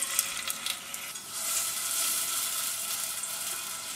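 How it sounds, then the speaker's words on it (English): Chopped onion, garlic and diced jalapeno sizzle in a hot pan over medium heat, a steady close frying hiss with light stirring scrapes throughout and no talking. "I'm going to add half a cup of chopped onion, 2 cloves of garlic, and 1 jalapeno that's been diced."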